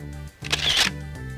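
Smartphone camera shutter firing as a photo is retaken: a single short electronic click and swish over a steady background hum.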